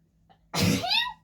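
A single short, squeaky sneeze, close and sharp, with a high-pitched trailing squeal after a faint intake of breath.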